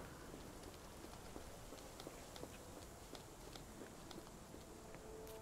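Steady, quiet rain falls in the Sherlock Holmes: The Awakened game world, a continuous soft hiss with scattered faint drips and taps throughout.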